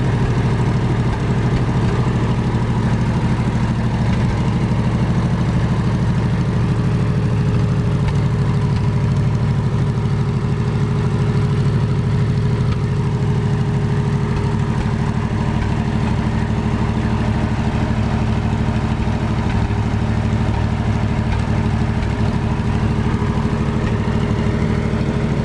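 A 1947 Lincoln pipeliner welder with a Wisconsin VF4 engine, long unrun, idles steadily at close range, a continuous loud rumbling drone with light clatter and no pauses.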